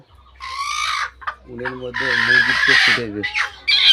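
Chickens clucking close by, with harmonic calls and a rooster-like crow mixed in, several overlapping bursts over a few seconds.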